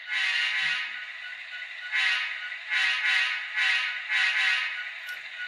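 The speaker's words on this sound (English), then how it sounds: "here's the horn on 9041." Union Pacific locomotive 9041 sounds its horn in a string of several chord-like blasts, some short and some held, with a thin, bright tone and little low rumble.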